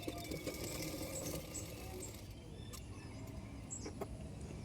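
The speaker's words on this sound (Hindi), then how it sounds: "पाइपिंग के दूसरे साइड में भी किनारे किनारे पे और एक सिलाई कर दूँगी" A sewing machine stitches a line along the piping on a blouse edge, giving a steady, continuous mechanical whir at close range with no speech.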